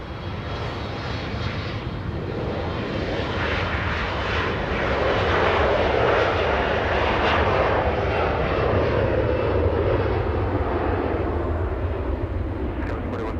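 A SkyWest jet takes off from Los Angeles bound for Spokane, Washington, its engine roar swelling to a loud, sustained peak midway and then easing slightly while staying strong to the end.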